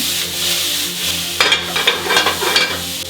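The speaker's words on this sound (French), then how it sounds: "Oignon, on tourne." Onions sizzling in hot vegetable oil in a pan while being stirred, a steady fry with scraping bursts as the spatula turns them, close and fairly loud, no voices.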